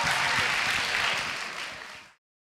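An audience at Lewis Hamilton's talk breaks into applause, a dense wash of clapping that fades and then cuts off into silence.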